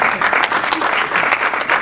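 Audience clapping steadily at a birthday celebration for a pastor, a dense, continuous burst of applause from a room of people with no pauses.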